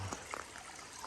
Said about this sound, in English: It's a nice little stream.